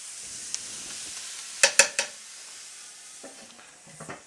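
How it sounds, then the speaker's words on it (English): Vegetables cooking in a skillet with bacon and chicken, a quiet steady sizzle broken by a few sharp utensil clanks against the pan as they are stirred. "You want to go ahead and stir this for about 5 minutes straight"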